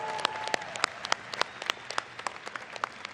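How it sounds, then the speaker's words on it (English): Audience applause at the Collision 2022 tech conference, a dense spray of sharp hand claps from a crowd, steady and moderately loud with no talk over it. "Just give them one huge last final round of applause."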